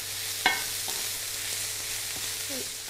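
Pancetta and mushrooms sautéing in a pan for lasagne, a steady hissing sizzle with a sharp utensil clink near the start and a couple of faint squeaks, close and fairly loud.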